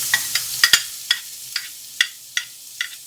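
A spoon stirs a sizzling chicken curry base of spices cooking in a pan: a soft frying hiss beneath a series of sharp, irregular scraping clicks, close and fairly quiet.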